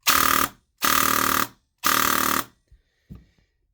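Elite Force MP5K airsoft gun firing full auto at a very high rate: three loud, dense sustained bursts of roughly half a second each, followed by a couple of faint clicks.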